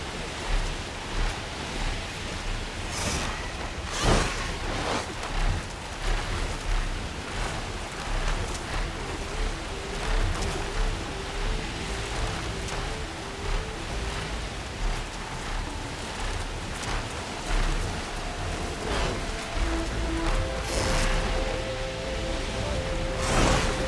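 Steady rain falls across an outdoor scene in the video game Horizon Forbidden West, a broad continuous hiss with scattered sharper hits and faint tonal game sounds, with no talk.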